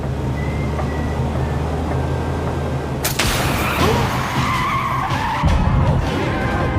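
Limo tires screeching in a sudden loud skid after a blowout, a sharp burst that cuts in over a low rumbling engine bed and then trails off into grinding road noise, with no talk.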